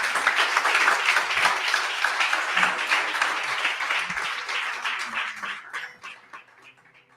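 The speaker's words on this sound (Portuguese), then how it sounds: "Dê um aplauso a Jesus." Applause fills a church service, steady and dense for about six seconds before thinning out and fading near the end.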